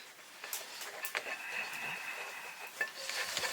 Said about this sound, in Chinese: 继续搅拌。